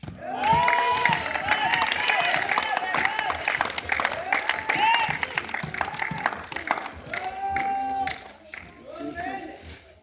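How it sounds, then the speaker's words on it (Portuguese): Applause from a church congregation at a Sunday service rises around loud voices calling and singing out, with claps and crowd noise running under the shouting. "Palmas para Jesus."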